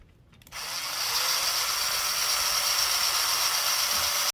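A small cordless drill spins up abruptly and runs at a steady high-pitched whine while a 3000 grit pad sands a fog light lens on a 2006 BMW E90 330i, continuous and close until it stops.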